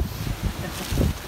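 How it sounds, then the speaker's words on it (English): Wind buffets the microphone in low, rumbling gusts at a campsite, swelling briefly and then easing. "Very windy"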